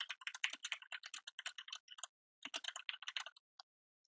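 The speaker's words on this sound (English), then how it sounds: "And now I'll type again." Rapid keystrokes on a computer keyboard, picked up from a distance by a headset microphone, clatter in two quick bursts separated by a short pause, with no voices.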